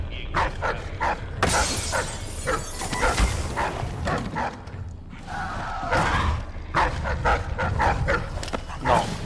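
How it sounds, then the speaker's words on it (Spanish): Dogs bark repeatedly in Dishonored 2, a burst of loud yaps and whimpers mixed with game noise and a crash. A voice talks over parts of it. "Está lleno de perros"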